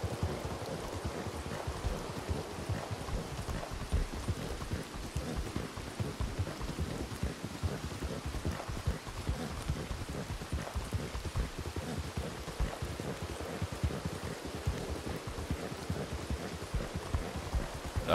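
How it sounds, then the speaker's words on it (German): Steady rain falls with wind in the video game Red Dead Redemption 2, a dense, even patter running throughout, with faint hoof clip-clops underneath and no talking. "Boah, 6 Grad Regen. Das ist nicht schön."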